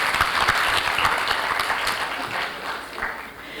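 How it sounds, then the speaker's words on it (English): Audience applause at a legal conference opening ceremony in Ghana, a dense sustained clapping from a large crowd that fades slightly toward the end, with no talk over it. "Can we give him another round of applause"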